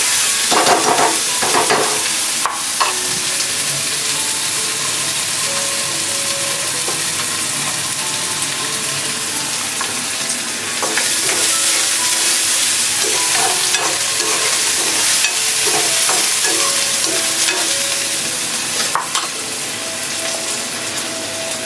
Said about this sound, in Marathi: कढीपत्ता, कांदा चांगला ब्राऊन होईपर्यंत आपण इथे भाजणार आहे.